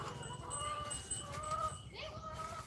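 Chickens cluck at a coop on a farm, several birds calling in short overlapping phrases at close range over a quiet background.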